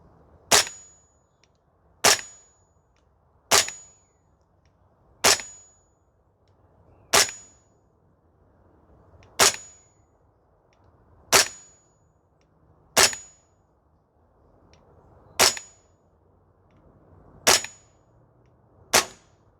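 Sig Spear LT 11.5 airsoft gas blowback rifle firing on an outdoor range: eleven sharp, loud single shots spaced a couple of seconds apart, each a crisp crack with a brief metallic ring, over quiet ambient background.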